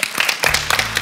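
A brief, full burst of audience applause for a performance on a Malayalam television reality show stage, dense clapping from a studio crowd.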